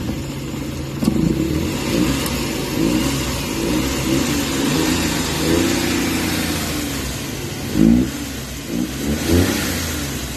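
A Suzuki Multicab's engine running after troubleshooting, heard as a loud, steady mid-pitched drone up close with a few brief revs near the end and no talk over it.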